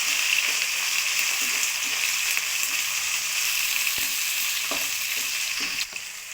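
Capsicum fries in a pan with a dense, even sizzle holding steady throughout, broken by faint stirring taps; nearby and moderately loud, without speech.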